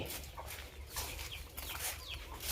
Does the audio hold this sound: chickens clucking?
yes